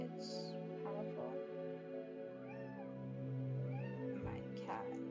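A domestic cat meows several times, brief and close, with some higher chirping calls spread across a steady background hum.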